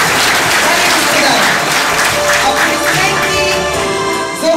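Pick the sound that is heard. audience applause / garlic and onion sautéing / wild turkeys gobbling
audience applause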